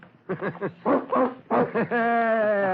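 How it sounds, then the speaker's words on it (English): Dog in an old-time radio drama about firefighters, several quick close yips and short barks followed by a sustained high, whining whimper, with no other sound around them. "You, Mr. Staples, let that dog alone."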